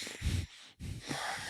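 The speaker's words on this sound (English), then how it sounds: "You'll see their angry breath." Heavy, forceful breathing demonstrating anger, with two harsh, wheezy breath bursts separated by a short pause, close and fairly loud.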